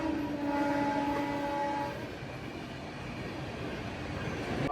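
The 13173 Sealdah–Sabroom Kanchanjungha Express rolls into platform 2 at Rampurhat Junction, a loud steady rumble of the approaching train with a sustained horn-like tone in the first two seconds, then continuous wheel noise.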